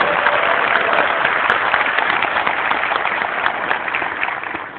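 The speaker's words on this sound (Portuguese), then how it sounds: "uma salva de palmas para elas" An audience claps steadily for the women from a Facebook group who helped out, a dense, continuous round of applause that tapers slightly toward the end.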